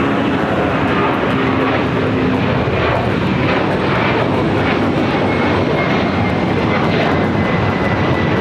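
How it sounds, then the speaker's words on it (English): A Delta Boeing 767-400ER jet airliner passes at LAX, a loud continuous broadband engine roar that holds steady through the whole stretch, with no voices over it. "Got that Delta 767-400ER."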